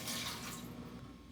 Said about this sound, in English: Starting out with 1 cup of lukewarm water